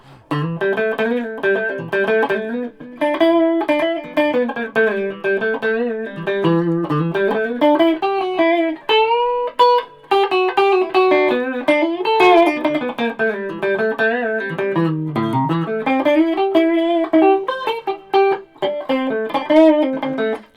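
Distorted electric guitar through a Vox AC15 tube amp plays a continuous melodic line with bends and sustained notes, gritty and overdriven, with no talking.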